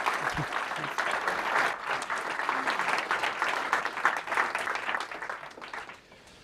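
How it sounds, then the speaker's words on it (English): An audience applauds steadily, a dense burst of clapping that gradually thins and fades at the end. "Can we give Adam another round of applause?"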